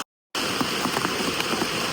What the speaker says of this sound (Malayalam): ഇവിടെ മഴയാ